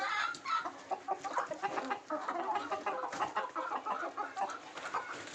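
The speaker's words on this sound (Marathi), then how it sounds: "हा जो व्हाईट कोंबडा मित्रांनो, हा आपला कॉकरेल कोंबडा मित्रांनो" White cockerel and other country chickens clucking at close range, a busy overlapping flock chatter running continuously with no talk.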